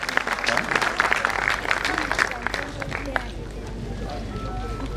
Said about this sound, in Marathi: जरा टाळ्यांचा जोरदार गजर होऊ द्या.